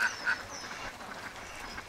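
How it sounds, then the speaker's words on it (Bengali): Egg-laying farm ducks gathered by a fish pond quack a few times nearby, short nasal calls over a soft, constant outdoor background. "বাকি হাঁসগুলি কিন্তু এইখানেই আছে, সবটি হাঁসই আপনারা দেখে নেন"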